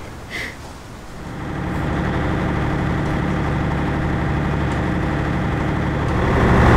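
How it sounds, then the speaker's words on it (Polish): A steady, loud ferry engine drone fills the whole stretch in Japan, a constant low rumble with a mechanical hum that swells slightly toward the end. "Nie wiem, czy coś słychać, bo silnik strasznie szumi"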